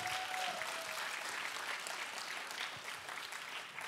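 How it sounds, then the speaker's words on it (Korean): Applause from a church congregation at a Friday evangelism school service, a steady wash of clapping that holds fairly constant for several seconds at moderate level with no talk over it. "다시 한번 영광의 박수를 하나님께 드리겠습니다"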